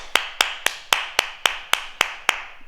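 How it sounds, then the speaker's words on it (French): A martial arts exercise class claps together in a steady rhythm, about nine crisp, evenly spaced claps in quick succession. "On s'applaudit. Bravo!"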